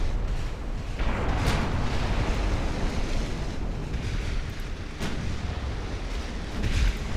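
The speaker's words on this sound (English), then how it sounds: "it looks like we're still with the big guns firing AP shells" Big warship guns firing armour-piercing shells in the naval game UA: Dreadnoughts, a dense, continuous rumble of booming salvos with sharper blasts standing out, loud and alone.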